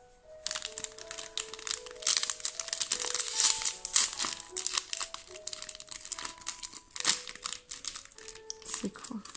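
A crinkly snack package from a Bokksu Japanese snack box is opened, giving dense, continuous close-up crinkling and rustling of plastic wrapper that keeps going with busy bursts throughout.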